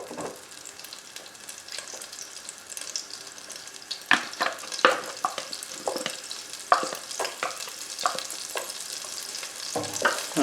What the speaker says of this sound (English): And once that's melted, we're going to add our onions.